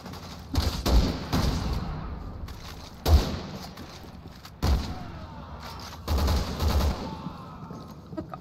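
Gunfire in the Resident Evil 6 video game, with a sniper among the shooters: irregular bursts of booming shots and thuds, some single cracks and some clustered volleys, fairly close, spread over several seconds.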